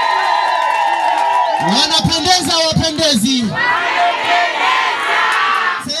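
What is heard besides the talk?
crowd cheering and ululating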